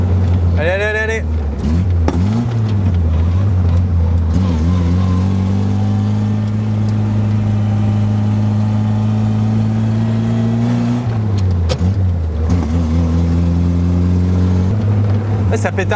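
Old Simca 5 car engine revving loudly while driving, with pitch rising and dropping through the revs and occasional popping backfires; people talk over the engine noise.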